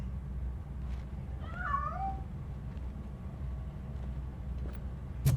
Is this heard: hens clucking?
no